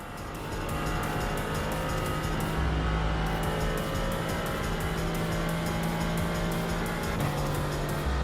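A Mazda MX-5 race car in a racing video game, its engine droning loud and steady at high revs with shifting pitch and a brief dip in tone partway through.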